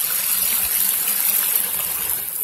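Sewage water gushes steadily out of the ground beside a street in Oakland, a close, continuous rushing hiss that stays loud and even throughout with no pauses.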